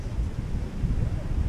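Wind blows across a beach in the Dominican Republic, making a low, rumbling buffet that pushes hard against the microphone in uneven gusts throughout.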